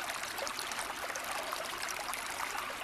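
A stream of water flowing and trickling over rocks, a steady, dense rushing babble that holds even and close throughout with no voices.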